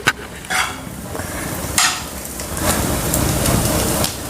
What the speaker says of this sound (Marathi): मी सांबार टाकते आणि मिक्स करून घेते